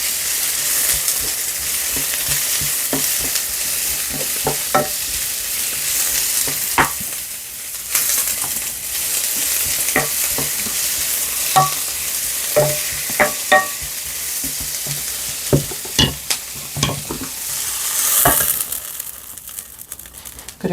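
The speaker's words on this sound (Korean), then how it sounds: "양파가 볶아줍니다." Cabbage and onion stir-frying in a hot pan for a spicy octopus stir-fry, a steady sizzle broken by repeated sharp scraping and tossing clacks of a utensil, close and lively, no voices.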